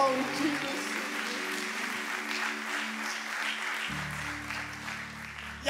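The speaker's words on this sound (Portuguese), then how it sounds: "Quem pode aplaudir?" Church congregation applauding during a Portuguese-language sermon, a continuous wash of clapping hands under sustained organ or keyboard tones and voices, steady throughout.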